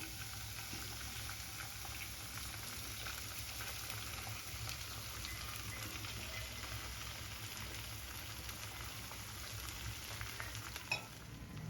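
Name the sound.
beaten egg poured into pan, frying omelette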